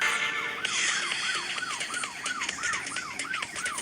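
A police car siren in the video game Dude Theft Wars wails in fast repeating up-and-down sweeps, loud and steady over rumbling road noise, with no talk.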